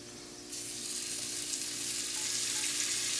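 Onions hit a hot pan and sizzle loudly and steadily. The hiss swells just after they land and then holds close and continuous, with no talk over it.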